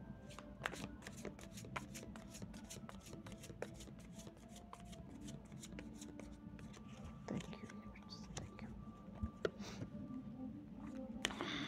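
Tarot cards shuffled for a reading, a dense continuous riffle of crisp papery flicks and slides running steadily throughout, close and moderately loud, with a faint whispery voice at times.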